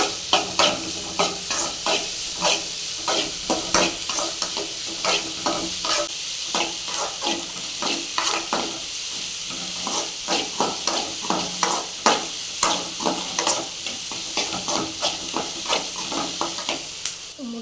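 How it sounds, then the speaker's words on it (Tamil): Onions and tomatoes fry hard on a high flame for a roadside-style paneer dish, giving a steady close sizzle broken by a regular scrape-and-clack of stirring throughout, with no talking. "நல்லா ஐ ஃபேமில் வச்சு நல்லா ஃப்ரை பண்ணுறேன் நல்லா அந்த வெங்காயமும் தக்காளியும் நல்லா குக் ஆகும்"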